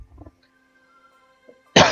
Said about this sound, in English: I'm a little bit sick because of the cold, so just bear with me. I'm sometimes coughing.